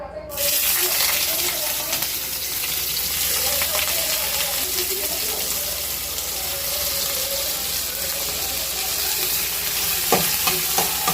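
Onion frying in hot oil for a Mughlai paratha filling: a loud, dense sizzle starts abruptly and hisses steadily throughout, with a few faint stirring knocks near the end.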